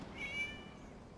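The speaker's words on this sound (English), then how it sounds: "It was just a cat." A cat in Genshin Impact gives one short, clear meow near the start of the clip, fairly quiet against a low background hum.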